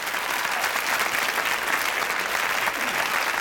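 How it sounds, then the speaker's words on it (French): Dense, sustained applause from a large studio audience for the singers at a French television variety show, a steady roar of clapping throughout. "Allez, applaudissez-les encore"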